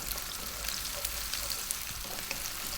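Onion for a vegan potato curry, aloo masala, fries in a pan over fairly high heat while being kept moving, giving a bright continuous sizzle with small crackles and faint stirring scrapes.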